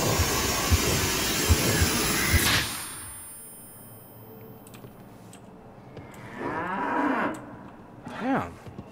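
Cows in a slaughterhouse in the game Cryostasis let out two drawn-out moos near the end, after a burst of loud machinery noise that cuts off into quiet ambience.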